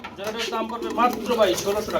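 Exhibition pigeons being sold as pairs coo in low throaty bursts, mixed closely with a person talking over them.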